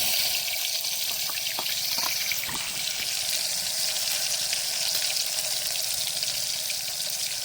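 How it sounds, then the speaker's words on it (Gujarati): Tomatoes dropped into hot oil for vaal nu shaak give a constant dense sizzle and hiss with a few small pops, steady and close throughout, with no talking. "તો સૌપ્રથમ આપણે હવે નાખી દેવું ટમેટા"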